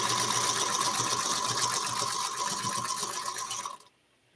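A sewing machine stitches half-square triangle quilt pieces in a fast, steady, close whirring run that stops abruptly near the end. No voices are heard.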